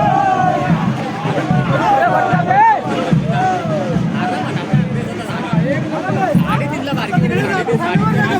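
Festive crowd at the Shimga palanquin festival in Talvali village, Konkan, gathered near the Somnath temple: a dense, continuous hubbub of cheering, shouting and chatter, loud and sustained throughout with overlapping voices.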